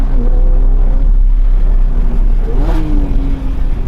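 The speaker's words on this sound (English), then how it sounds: "I do find it slightly easier to match the heel and toe in this, with a slightly slower revving nature." A Porsche 911 S/T engine revs during a heel-and-toe downshift, a loud in-car engine drone with a low rumble and a brief rising blip of revs near the end.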